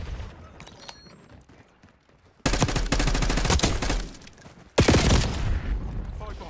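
Call of Duty: Black Ops 6 beta gunfire, with loud sustained automatic bursts that start abruptly after a quiet stretch, pause briefly, then resume at full volume, with faint talk at the start.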